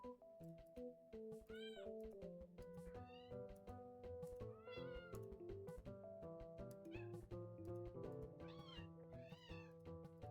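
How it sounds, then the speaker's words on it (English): Cats meowing in the Slime Rancher 2 video game, many overlapping rising meows over a steady melodic game soundtrack, repeated throughout at a moderate level. "There's so many cats."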